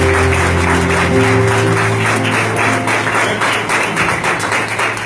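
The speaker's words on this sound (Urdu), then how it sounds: "زوردار تالیوں سے ویلکم کرتا ہوں" A congregation gives loud, continuous applause to welcome a preacher, with dense clapping close and steady throughout and a low hum underneath.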